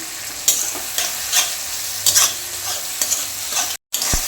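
Mutton being stir-fried with garlic paste in a pan, a steady sizzle broken by regular scraping stir strokes about every half second, close and fairly loud with no talk.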